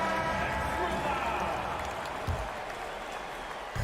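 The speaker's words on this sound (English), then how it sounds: "Please give a big round of applause for your Cavaliers" An arena crowd at a Cavaliers basketball game applauds in a broad, even wash of clapping that fades slightly toward the end, with an announcer speaking over it.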